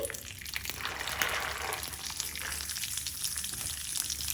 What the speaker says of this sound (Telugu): 1 స్పూన్ ఆయిల్ వేసుకుని ఆయిల్ వేడయ్యాక లో ఫ్లేమ్లో పెట్టుకుని ఈ శనగలను వేసి క్రంచీగా అయ్యే వరకు వేయించుకోవాలి